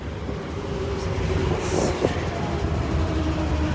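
A metro train rumbles steadily through Ngau Tau Kok Station with faint rail clatter and a brief squeal, a constant loud drone throughout.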